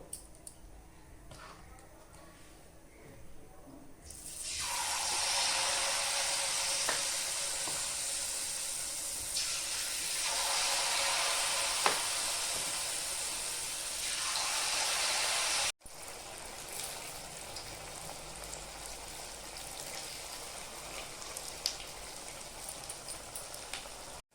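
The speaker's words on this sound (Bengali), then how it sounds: "আমি এখন বড়া কটা ভেজে নেব।" Taler bora (palm fritters) dropped into white oil in a kadai burst into a loud, close, sustained sizzle that swells after a quiet start and keeps hissing, with a few faint clicks, before dropping to a softer bubbling fry.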